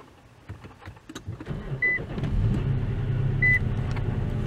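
Push-button start of an Infiniti M56/M37/Q70 sedan using a dead key fob: two short electronic beeps, then the engine catches and settles into a steady, moderately loud idle rumble.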